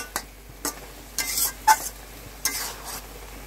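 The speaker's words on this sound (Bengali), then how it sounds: "এভাবে জিরেটা আমরা সবকিছুর সঙ্গে মিশিয়ে নিলাম," A spoon stirs cumin paste into bubbling masala for a Bengali fish curry, making several separate scraping and clinking strokes against the pan over a soft sizzle, with no talking.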